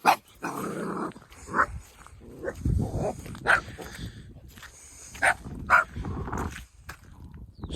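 A dog barks and yaps excitedly in short bursts, mixed with growly, whiny noises, fairly close, with brief gaps between outbursts.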